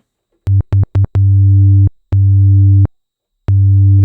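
A deep, gritty distorted 808 synth bass in Logic Pro X plays a short tech house pattern: three quick stabs, then longer sustained notes with brief gaps, loud and alone.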